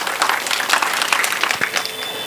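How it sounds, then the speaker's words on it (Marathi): A crowd of children and parents at a lecture gives a short round of applause for Ustad Zakir Hussain, a busy patter of hand claps that stays steady throughout. "टाळ्या वाजवा याच्यासाठी."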